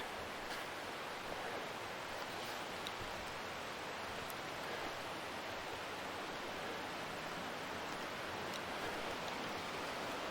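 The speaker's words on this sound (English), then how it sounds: "Creek is right there." Steady broadband rush of a flowing creek beside a backcountry campsite in Northern California fly-fishing country, a constant close wash of water with no voices, continuous for the whole stretch.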